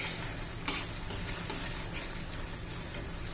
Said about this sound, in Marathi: 2 मिनिटं तरी असं हलवत राहायचंय.